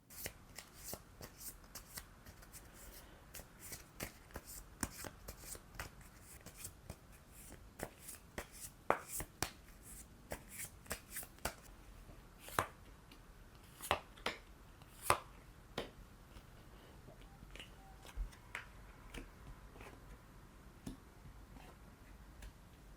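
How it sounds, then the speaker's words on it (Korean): Tarot cards are shuffled and drawn by hand, a steady run of crisp papery riffles and sharp card snaps, close and fairly quiet, with no talking. "3번 카드 뽑으신 분들을 위해 타로 카드 뽑아보겠습니다"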